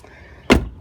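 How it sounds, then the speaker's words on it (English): A 2006 Cadillac CTS-V sedan door shuts with a single solid, deep thud against a quiet background, followed by a short fading rumble. "Up front, even the way the door closed, very quality"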